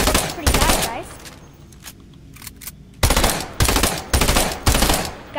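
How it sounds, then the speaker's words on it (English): Bursts of rapid automatic gunfire from a new gun in a video game, used for breaking walls: a long loud volley, a quieter stretch with scattered shots, then three more heavy bursts close up, with a voice talking over parts of it. "Guys, this is an awesome gun for breaking walls."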